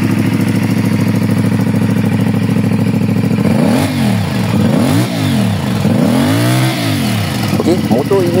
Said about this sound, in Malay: Sekarang kita nak cuba dia punya bunyi engine.